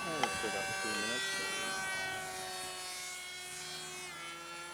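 A 1/20 scale radio-controlled F-117 stealth fighter model propjet flying a loop, a loud, steady buzzing whine with strong harmonic tones sweeping slightly in pitch, and a brief voice near the start.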